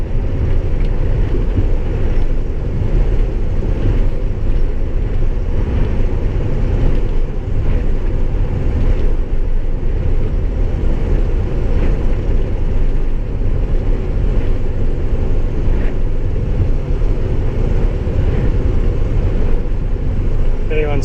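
An International Durastar truck with a Cummins 6.7 engine cruises on an interstate highway, giving a constant loud low engine and road drone with wind rush, steady and unbroken throughout.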